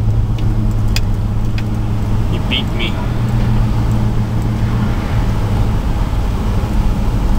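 An old pickup truck loaded with scrap drives along, its engine and road rumble droning steadily up close while someone speaks briefly over the noise.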